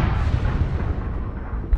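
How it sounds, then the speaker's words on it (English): Car bomb blast in the military shooter game Squad, a loud, heavy explosion with deep rumbling that fades out over the clip, no talk. "Oh my god, he exploded."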